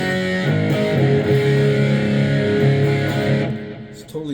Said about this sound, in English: They all retained their own distortion sort of tone.